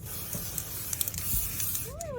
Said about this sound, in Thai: ทุกคนสเปรย์กันแดดนะคะ